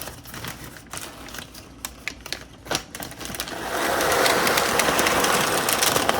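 Dried beans, home-grown and reused for blind baking, rattle and patter into a parchment-lined pie crust, first in scattered clicks and then in a dense, steady pouring rush, close and fairly loud.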